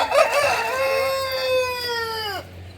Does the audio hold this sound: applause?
no